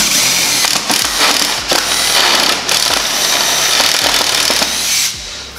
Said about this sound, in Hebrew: בתוך החיזוק של F47 אנחנו עושים קידוח עם מקדח קונוס, זה מקדח קונוס 12 מילימטר